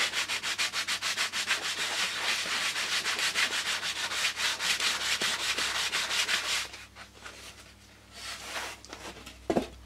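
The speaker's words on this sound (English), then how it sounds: "use sandpaper to see to it that the glued edges are level." Sandpaper scrubs back and forth over glued wooden edges to level them, a fast rhythmic rasp of close strokes that runs steadily for several seconds, then slows into a few softer, scattered rubs.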